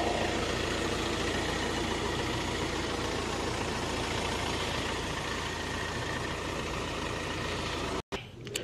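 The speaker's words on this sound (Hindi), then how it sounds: "ये देखो गाइस इंजन साउंड आप सुन लो 1500 सीसी इंजन के अंदर" A Hyundai Venue SX 1500 cc diesel engine idles for several seconds with a low, even rumble, then cuts off abruptly near the end.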